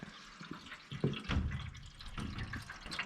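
Coolant is poured into the radiator of a rat rod car, giving a soft, irregular gurgling and splashing of liquid with a few brief knocks, close and fairly quiet.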